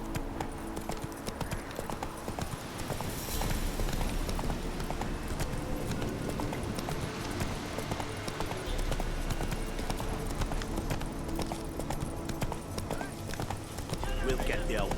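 In The Witcher 3: Wild Hunt, a horse gallops with a rapid, steady clip-clop of hooves running throughout, set against game ambience and occasional talk.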